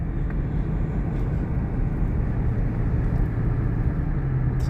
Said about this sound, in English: First time driving on the road under its own power since